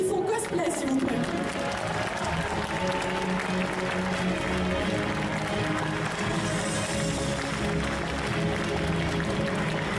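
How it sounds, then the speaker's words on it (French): An audience applauds at a cosplay costume contest, with steady clapping and crowd noise filling the hall throughout. "je veux un tonnerre d'applaudissements pour Daini du Typhon Cosplay"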